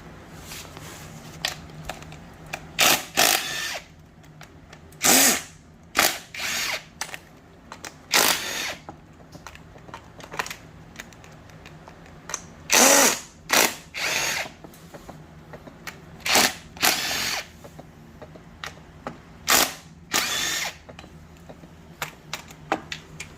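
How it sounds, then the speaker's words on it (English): Repeated short bursts of a power drill or impact driver backing out 10 millimeter bolts from a Peerless transaxle case on an Ariens, Husqvarna or Craftsman mower, close and loud, with uneven gaps and small clinks of parts between the bursts. "So I will get all these bolts taken off and I'll be back."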